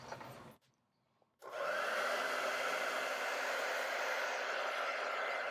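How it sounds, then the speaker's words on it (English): A hair dryer switches on near the microphone to dry an acrylic painting, a steady loud whooshing hum that runs unbroken after a brief quiet gap. "We're going to take a minute and take the hair dryer and just dry it"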